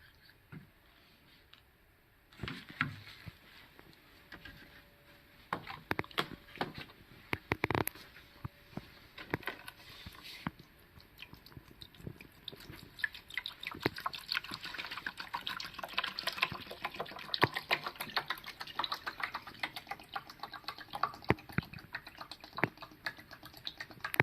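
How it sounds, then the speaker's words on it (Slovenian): Water is poured into the upper reservoir of a small pumped-storage hydroelectric model, a faint, steady trickle and splash with scattered light clicks and taps, no voices. "Sedaj bom zlil vodo v zgornji rezervoar črpalne hidroelektrarne."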